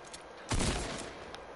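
A short burst of Fortnite gunfire, loud and brief, then fading into a low background.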